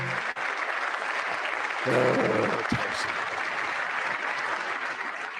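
Applause from the audience at a State of the Union address, a steady wash of many hands clapping that swells briefly midway, heard at a distance over a broadcast.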